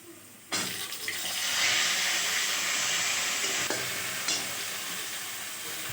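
Tomatoes drop onto potatoes already frying in a pan with salt and turmeric for a fish curry, setting off a sudden loud hiss that settles into steady sizzling, broken by a couple of light knocks.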